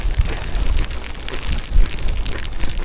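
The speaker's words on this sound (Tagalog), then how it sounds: "It's raining!" Rain falls steadily on an island, a dense, loud broadband patter with no pauses and no voices over it.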